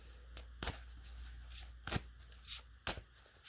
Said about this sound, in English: And I only do partial shufflings on camera